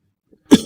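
One loud, close cough bursting out after near silence, trailing off into a short breathy tail.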